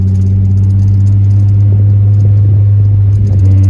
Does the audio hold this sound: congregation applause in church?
no